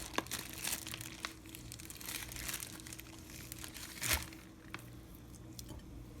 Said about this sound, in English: Then I'm just going to take the salmon out of this Ziploc bag.